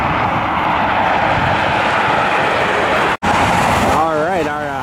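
A Southwest airliner taxiing in after landing at Cleveland, its steady broadband jet engine roar filling the scene, with a rising and falling whine emerging near the end; a voice talks over it.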